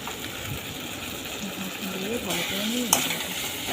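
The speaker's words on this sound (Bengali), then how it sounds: "দিয়ে ভালো করে নেড়ে নিতে হবে" Pomfret fish curry with tomato, salt and ginger-garlic paste stirred in a pan, a steady close sizzle with scraping spoon strokes and a brief sharp clink near the end.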